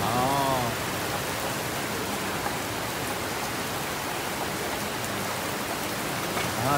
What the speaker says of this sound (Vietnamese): Đứng coi mưa cả nhà.